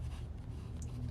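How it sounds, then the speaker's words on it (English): A pen scratching on paper while an email address is written down, a brief, faint scribbling with soft strokes lasting about a second. "let me write down my email"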